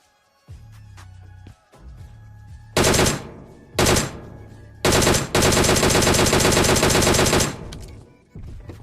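DP machine gun fire in the PUBG video game, loud close bursts of rapid automatic shots, several short bursts then one long sustained burst, with gaps between.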